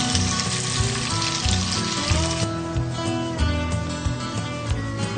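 Chopped tomatoes with garlic-ginger paste fry in a pan for a turnip sabji, making a continuous close crackling sizzle that stays even throughout.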